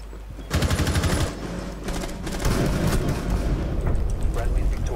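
Automatic gunfire in Rainbow Six Siege comes in rapid rattling bursts, a short volley, a brief pause, then a longer sustained stream of shots with heavy booming low end. A player's voice may be faintly audible alongside the shots.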